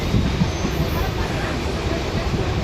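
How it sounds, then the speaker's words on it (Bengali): A passenger train pulls into Bhabta station on the Krishnagar line, a loud steady rumble of wheels and carriage noise with faint murmuring voices in the background. "ওই দিকটায় আমাদের ট্রেন এখন ঢুকে গেছে ভাবতা স্টেশন"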